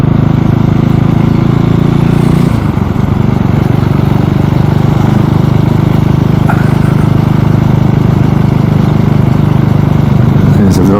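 KTM 390 Duke motorcycle engine while riding near a roundabout, a loud, steady droning hum with a shift in tone early on and constant wind rush, with a rider talking over it.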